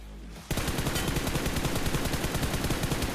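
Rapid automatic gunfire in the mobile shooter game BGMI erupts after a brief pause and continues as loud, dense, evenly spaced bursts until the end.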